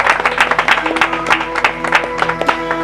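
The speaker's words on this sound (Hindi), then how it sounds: "उनके लिए तालियां" Audience clapping at a yoga centre gathering, a steady patter of many hands with individual claps standing out, fairly loud and close, with a faint voice underneath.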